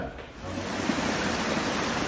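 A small waterfall rushes steadily and fairly close, a constant broad splash of falling water with no break.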